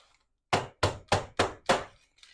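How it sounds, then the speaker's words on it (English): A pumpkin pie dish is tapped firmly on a counter five times in an even rhythm, each knock a sharp, close thud with a short decay, to settle the filling. "I'm going to tap it to make sure no air bubbles"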